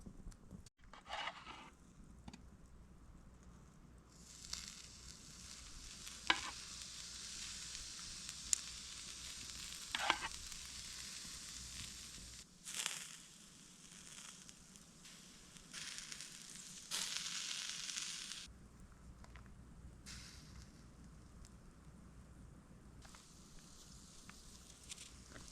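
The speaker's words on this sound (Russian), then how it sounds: "креветочки очень быстро жарятся" Shrimp cook on a charcoal grill, giving a soft, broad sizzle that swells and fades in waves, with scattered faint clicks and taps of handling and no speech.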